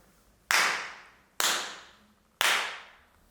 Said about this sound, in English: this is done by clapping